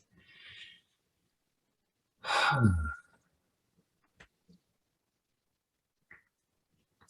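A single quiet breath drawn in during a guided group exercise, one soft airy inhale lasting under a second, followed by a brief faint whisper of air, with no talking.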